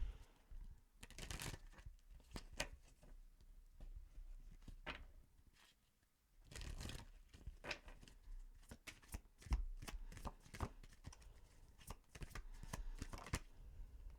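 Moonology oracle cards being shuffled close up, in repeated quick riffling bursts separated by short pauses and a longer gap midway, quiet and with no voices.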